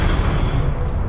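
A Confringo blasting spell explodes in the Hogwarts Legacy video game, a dense, continuous low boom that rumbles loudly through the whole short moment without any voices.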